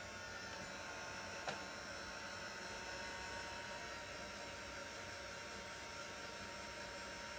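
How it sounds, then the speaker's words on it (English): A steady, quiet airflow hum from a non-heated air-drying tool, similar to a hairdryer on its low setting, being used to dry chalk paste on a craft project, running unbroken with one tiny click partway through. "It's kind of like a hairdryer on the low setting."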